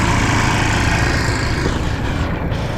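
A scooter on a road near Huong Son in Vietnam rides off, its loud, continuous engine drone filling the scene and easing only slightly as it pulls away.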